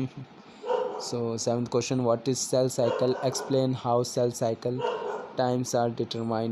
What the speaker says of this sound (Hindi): पीछे कुत्ते भौंक रहे हैं.